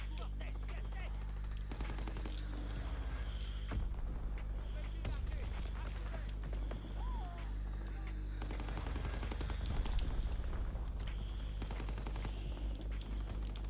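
Rapid gunfire from an STG44 rifle in a shooter video game, repeated bursts of automatic fire over a steady low rumble, with a player's voice heard among the shots.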